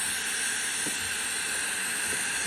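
Steam hisses steadily from a Breville BES990 coffee machine during descaling as pressure is released, a loud continuous broadband rush close by, with no talking.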